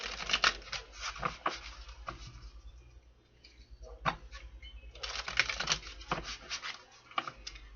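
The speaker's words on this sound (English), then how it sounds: "One more shuffle." Quiet, rapid riffling of tarot cards being shuffled in several short bursts, with pauses between them and a soft low hum underneath.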